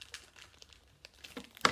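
A crinkly plastic LOL Surprise blind bag is handled and opened, giving scattered soft crinkles and rustles and then a sharper, louder crackle near the end, heard up close with no speech.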